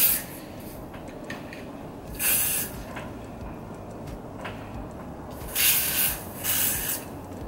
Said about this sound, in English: I'm just gonna spray this on my forehead.